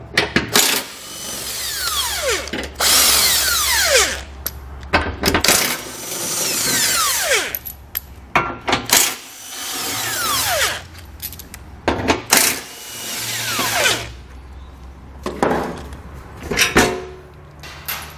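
Power tool spinning bolts out of a panel on a 2020 Jeep Cherokee during a base plate install, coming in several loud whirring bursts with rising and falling pitch, separated by metallic clinks and handling noises, close up with no talk.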